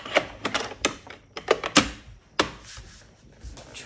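A scoring tool drags and taps across paper on a cardstock project, a quiet close series of sharp clicks and scrapes in an irregular rhythm, with no talk.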